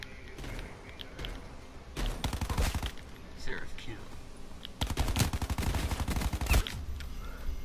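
Video game gunfire with loud shotgun blasts and rapid bursts of shots in several clusters, heavy near the middle and end of the clip. Talk is heard between the volleys.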